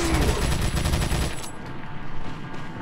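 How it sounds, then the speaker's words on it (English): Rapid TMP gunfire in the Resident Evil 4 video game, a dense burst of fast automatic shots for about a second and a half, then fading into rumbling game noise. "I'm gonna pull my TMP because I don't want to waste the handgun bullets"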